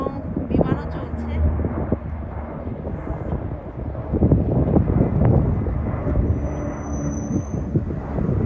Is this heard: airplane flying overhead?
yes